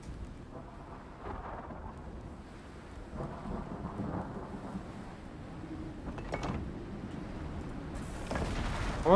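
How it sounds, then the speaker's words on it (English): Rolling thunder from the game Surgeon Simulator 2 rumbles steadily with rain-like hiss, swelling into louder crashes toward the end, with no talking over it. "So these are really, really good thunder sound effects and lightning."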